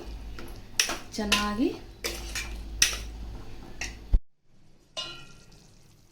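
A spoon stirs chopped tomato into a brinjal masala gravy in a pot, giving close metallic clinks and scrapes in uneven bursts, then a pause and a final clatter, while someone speaks briefly.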